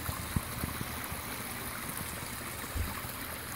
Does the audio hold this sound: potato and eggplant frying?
no